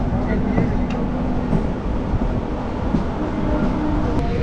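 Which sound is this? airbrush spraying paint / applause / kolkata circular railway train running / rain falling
kolkata circular railway train running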